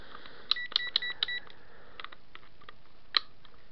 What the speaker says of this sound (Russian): Тут только вот при старте, что на два раза пикает